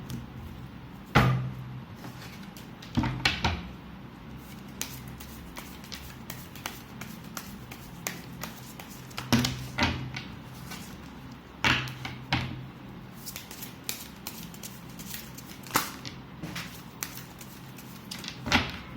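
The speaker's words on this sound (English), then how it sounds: "not yet done shuffling." Tarot cards shuffled by hand, giving a series of brisk riffling taps and slaps that repeat irregularly over about twenty seconds, close and fairly loud, with no talking.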